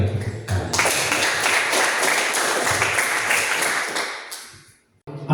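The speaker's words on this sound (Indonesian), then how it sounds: "Kita berikan tepuk tangan." A room full of people gives a loud, sustained round of applause that fills several seconds before tapering off and stopping abruptly.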